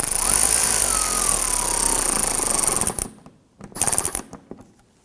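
A ratchet snugs down screws on a 2008-2011 Ford Focus 2.0L four-cylinder engine during a PCV hose replacement. Steady close mechanical noise runs for about three seconds, then a short burst of clicking follows after a brief pause.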